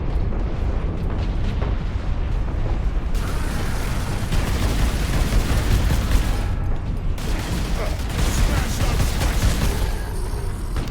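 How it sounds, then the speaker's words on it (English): Dense, loud gunfire in Warhammer 40,000: Space Marine, sustained bursts and booming blasts crowding the whole stretch with barely a pause, close and overwhelming. "I think now the gunfire is like way too loud."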